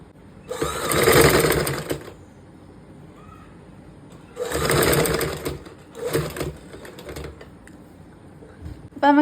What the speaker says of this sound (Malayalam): അവിടം വരെ ഒരു സ്ട്രെയിറ്റ് ആയിട്ട് ഒരു സ്റ്റിച്ച് കൊടുക്കാം